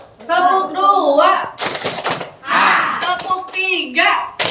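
A group of teachers claps a second rhythmic hand-clap pattern, two short bursts of sharp claps between stretches of someone talking.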